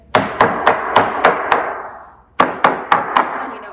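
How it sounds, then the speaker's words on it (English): Sharp hammer strikes driving staples into a wooden canvas stretcher in two quick bursts, six blows then a pause and five more, loud and close, each hit ringing briefly. "grab the hammer and just hammer it down a bit"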